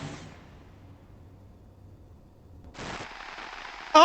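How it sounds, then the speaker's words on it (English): A video game gunshot lands as one sharp loud crack at the start. A hushed stretch follows, then a second burst of noise and a final loud hit at the end. "Oh my god, he shot her!"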